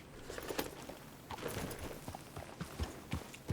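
Horse in the Red Dead Redemption 2 video game, with soft, irregular hoof clops and snorting shuffles at close range over a steady background of game ambience.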